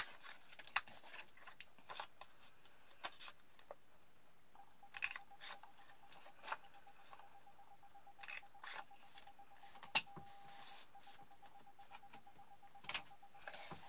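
Sharp, crisp clicks from a small corner rounder punch trimming the corners of a paper Christmas gift tag, a dozen or so close snaps at an uneven pace over a faint steady hum, with no talking.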